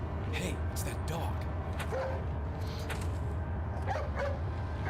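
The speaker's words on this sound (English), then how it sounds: "Hey, it's that dog." A dog in the video game Resident Evil 4 barks and yips a few times against a constant game backdrop, the calls moderately loud and spaced unevenly.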